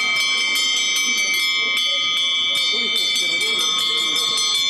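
Small household blessing bells ring in quick repeated strikes, bright and clear, overlapping one another while people talk underneath, at a Christmas fair in Yekaterinburg.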